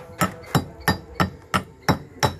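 A big hammer breaking away the edges of a stone block in a tool shop in Galle, Sri Lanka, struck seven times in a steady rhythm, each impact loud, close and sharp.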